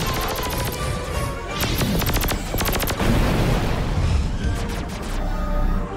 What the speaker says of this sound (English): Keep those cannons firing, Mason!